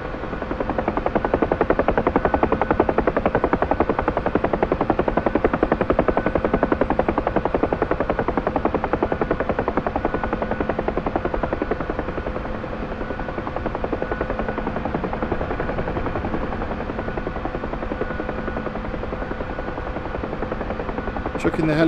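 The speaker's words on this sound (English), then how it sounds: "Chucking the helicopter around" Helicopter flight in the DCS flight simulator game, a loud steady rotor and turbine drone with rapid blade chop throughout, easing slightly midway, while someone talks over it.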